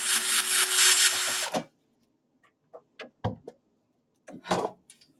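A power drill fitted with a long bit whirs loudly and continuously for about a second and a half, then stops abruptly and is followed by scattered close clicks and knocks of handling.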